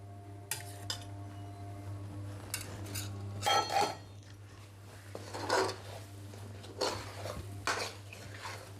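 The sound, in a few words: stirring ghee into leaf tambuli in a pot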